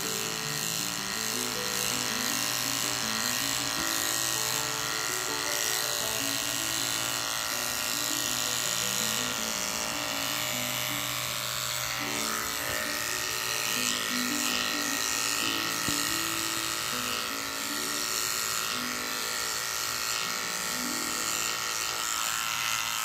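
A Norelco 5940 electric trimmer buzzes steadily against skin while shaving, with a close, loud, unbroken motor whine and a harmonic hum that holds for the whole stretch.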